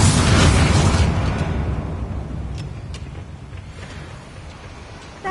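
A spell explosion in Hogwarts Legacy bursts loudly at the start, then a deep rumbling boom decays slowly over several seconds with faint debris clatter trailing off.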